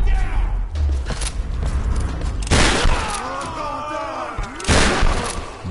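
Shotgun blasts boom loudly in the Tomb Raider video game, with a couple of heavy shots spaced a few seconds apart over creaking, clanking game effects.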